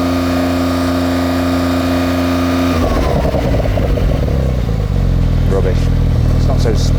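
A new Porsche 911 engine, held stationary, idles and then is floored against a soft rev limiter, giving a loud, close, flat sustained drone with clattering fluctuations while people talk over it.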